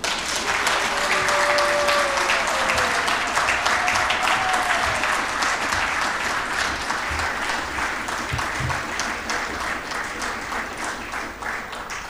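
Loud, sustained applause from a large audience at the opening of an East African civil society summit, clapping steadily for about twelve seconds and slowly easing off.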